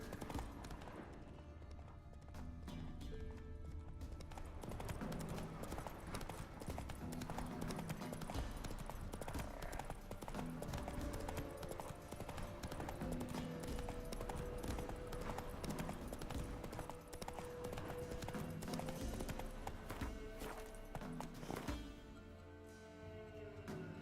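Horse hooves clip-clop in a steady galloping rhythm in The Witcher 3, loud and continuous throughout, over a dense game soundscape with no talking.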